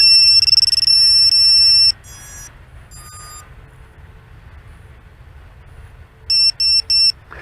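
A high-pitched electronic alarm buzzer on a VIFLY Finder drone finder beeps loudly and steadily for about two seconds, then a few short chirps follow before three quick beeps near the end.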